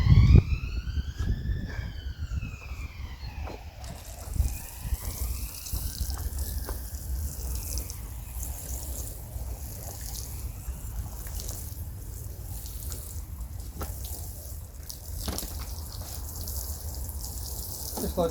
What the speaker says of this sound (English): Just make sure that you water them in.